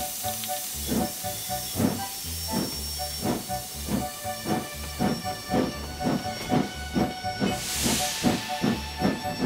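Steam locomotive hissing with steady rhythmic chuffing bursts, about two per second, over a continuous hiss, with a brief louder steam blast near the end, close and alone.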